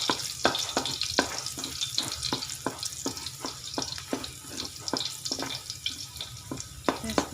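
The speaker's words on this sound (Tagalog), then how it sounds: "Yan na guys, nilagay ko na yung bawang." Garlic frying in a pan as the first step of adobong sitaw with okra and pork liempo, giving a steady close sizzle broken by a regular run of light stirring taps and scrapes, with no talk.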